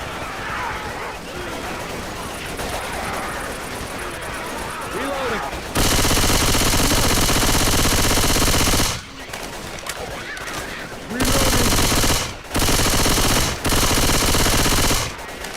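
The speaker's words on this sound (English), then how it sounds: "I don't remember the AK being this inaccurate, bro." Bursts of AK assault rifle fire in Call of Duty Cold War, loud and sustained automatic strings broken by short gaps, following a stretch of quieter game noise with someone talking.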